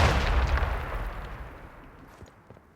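Grenade explosion in Sniper Elite 5, a single loud, deep blast at the start that rolls off into a fading rumble with a few faint crackles as it dies away.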